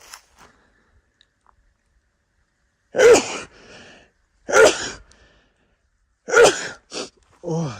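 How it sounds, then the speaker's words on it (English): Indoors in a cabin, a person lets out a few sharp, close sneezes in quick succession, each a sudden loud burst with quiet in between, followed by a brief voice. "I'm gonna sneeze really quickly"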